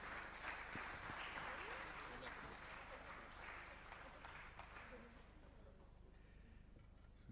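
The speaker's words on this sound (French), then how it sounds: "Merci, bravo, on vous applaudit" Applause at a prize-giving ceremony, a broad crowd clapping that stays full for about five seconds, then thins out, with a low room rumble and faint talk underneath.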